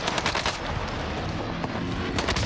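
Long-range gunfire from the Call of Duty Warzone battle royale video game, heard as a steady, dense run of rapid shots filling the whole stretch without a pause.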